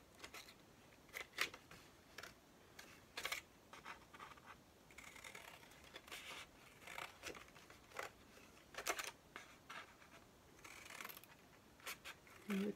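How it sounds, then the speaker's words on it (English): Multi-bladed paper-cutting scissors snipping through several layers of paper for paper flowers, a series of quiet, close crisp cuts and scratches at irregular intervals with no talk. "use these new multi-bladed scissors"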